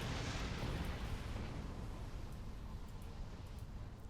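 A ship blows up in a Star Trek Online space battle, with a broad rumbling blast that swells at first and then slowly fades into a long, dull roar.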